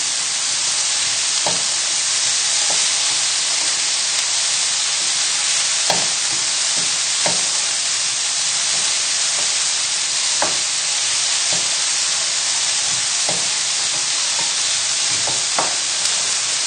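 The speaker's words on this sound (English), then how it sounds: "all we're doing here is just cooking down the vegetables just for a minute" Chopped vegetables and onion cook down in a pan, making a constant broad sizzling hiss with occasional light clicks from a utensil, steady and close throughout with no talking.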